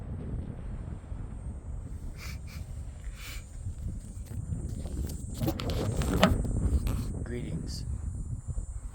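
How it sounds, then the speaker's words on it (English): Wind buffeting a microphone outdoors at Panther Meadows, a low continuous rumble with gusty swells that peak midway, plus a few faint rustles. "voice of the wind insisted on being a part of this capture"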